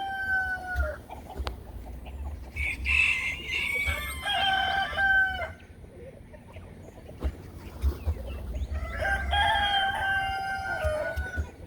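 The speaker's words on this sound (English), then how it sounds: "we got a tiff going on between a guinea and a rooster" A guinea fowl and a rooster squabble, the rooster crowing loudly in two bursts with sharp clucks and calls in between.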